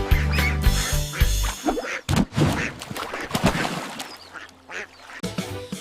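Duck quacks sound over the bouncy backing music of a children's nursery rhyme song, repeated in short bursts alongside splashy, playful sounds.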